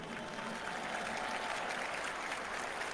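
A wrestling arena crowd at a SmackDowns show applauding, a dense, even wash of distant clapping and crowd noise holding steady for a few seconds.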